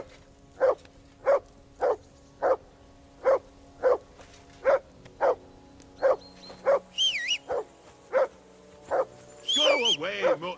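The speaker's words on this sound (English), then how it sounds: "I assume you can hear that damn dog of yours barking." Steady, evenly spaced barks from a dog in Kingdom Come Deliverance II ring out one after another at mid distance, and toward the end a voice speaks over the last few barks.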